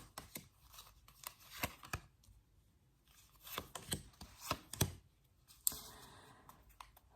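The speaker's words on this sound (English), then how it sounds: "let's pull out some cards for air signs" Tarot cards being pulled and handled, with a quick run of crisp flicks, slaps and papery rustles in irregular bursts, close and fairly quiet, with no voices.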